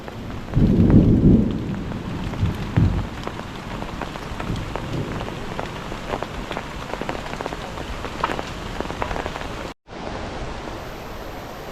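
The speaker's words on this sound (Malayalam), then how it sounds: "അയ്യോ തകർപ്പം മഴ" Heavy Kerala monsoon rain pours steadily on surfaces, dense and close, with a low rumble of thunder near the start and no talking.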